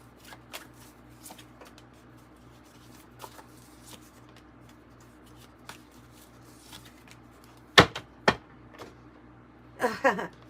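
Oracle cards are shuffled by hand, with soft riffling and rustling through most of the stretch, then two sharp snaps of the deck near the end and a closing burst of fast riffle shuffling, close and fairly quiet.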